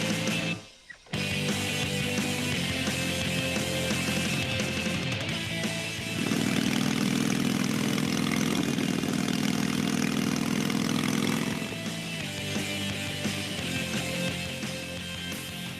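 Engines of self-driving test vehicles at an automotive proving ground, a steady mid-pitched idle hum that briefly drops out near the start, then swells louder for several seconds before settling back, with no talking.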